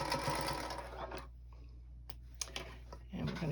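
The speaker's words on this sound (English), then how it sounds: "Now we've stitched down that side." A sewing machine stitches quilt fabric for a charm pack chain block, whirring in a steady run that stops partway, followed by a few light clicks, with a person talking over it.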